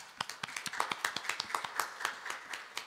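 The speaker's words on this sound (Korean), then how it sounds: "박수 한번 치도록 하겠습니다" A congregation at a Korean Won Buddhist Wednesday service claps in a steady, moderately paced rhythm of distinct hand claps, fairly close and unaccompanied by talk.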